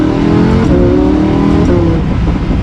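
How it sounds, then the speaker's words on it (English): Lamborghini Huracan accelerating hard, a loud continuous engine roar with rising pitch through the gears, heard up close from inside the car without talk. "one last acceleration we'll do as we wrap up the Huracan."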